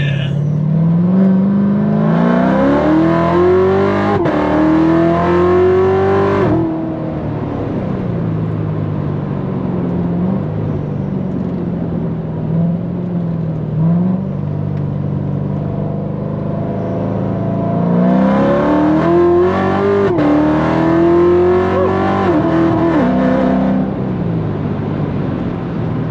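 A Corvette Z06 drives on a small private track, its engine loud and close, rising through two long revving pulls with steady cruising between them.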